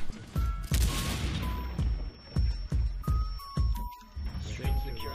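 F2 rifle in Rainbow Six Siege firing in short bursts: sharp, punchy cracks in quick clusters with brief gaps, loud and close, with faint talk underneath and spent casings tinkling.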